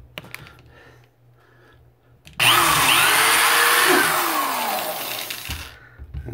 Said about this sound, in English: So still using my quarter inch drill bit.